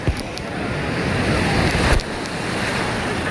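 Loud surf at Digha beach, waves breaking and washing in a steady roar with a sharper crash near the middle, mixed with wind rumble on the microphone.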